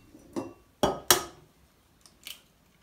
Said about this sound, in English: I'm going to crack the eggs into the jug